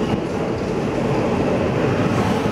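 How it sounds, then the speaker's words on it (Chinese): Train at a crowded Tainan railway station platform during the Lunar New Year travel rush, a steady close rumble of rolling rail cars without break. "台南火车站的月台也挤满了过年返乡的民众"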